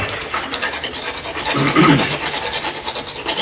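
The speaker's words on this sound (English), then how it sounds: "take this little emery board S-rasp that I've been using before, and we just come in and do just a final little touch-up" An emery board S-rasp gives a horse's tooth a final touch-up filing. Short rasping strokes repeat close and steadily, with one heavier scrape in the middle.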